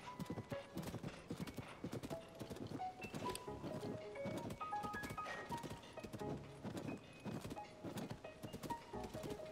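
Hooves clip-clop in a fast, steady galloping rhythm, with a horse's whinny and a busy musical backdrop, fairly faint overall, from the video game The Legend of Zelda: Tears of the Kingdom.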